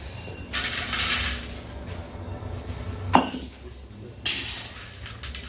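Metal clatter and scraping as dry-roasted whole spices for chai masala are tipped onto a steel plate, with two sharper clinks standing out, no talking.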